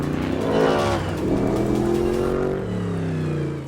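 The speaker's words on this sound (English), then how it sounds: "I'm proud to introduce to you the Mustang GT3" The Ford Mustang GT3 race car's engine snarls close by in the Le Mans pit lane, its pitch rising and falling through a few revving surges over a few seconds.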